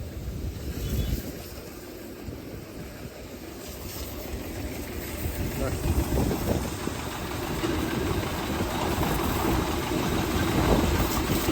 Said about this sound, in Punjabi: ਟਰੈਕਟਰ ਸਟਾਰਟੇ ਖੜੂਗਾ ਹੁਣ ਇਹ ਕਿਉਂਕਿ ਬੈਟਰੀ ਹੈ ਨਹੀਂ ਧੱਕਾ ਸਟਾਰਟ